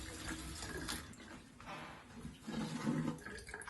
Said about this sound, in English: Just have to rinse it.